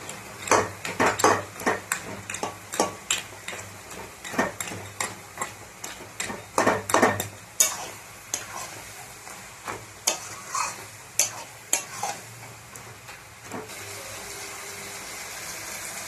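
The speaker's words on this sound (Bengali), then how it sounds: "এবার মাছের মাথা দুটো ভালো করে ভেঙে দেবো।" Repeated scraping and crunching strikes in a pan, irregular and fairly close, as fish heads are broken up with a utensil while stir-frying with spinach; a soft steady sizzle lingers beneath.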